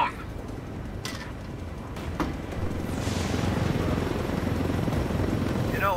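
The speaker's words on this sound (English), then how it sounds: "I told Griffin I could figure out how to fly this thing. Things like flying a goddamn plane. But not choppers" Helicopter in the video game Ghost Recon Wildlands, a loud steady rotor and engine roar that swells and thickens over a few seconds, with brief sharp knocks early on and no talking.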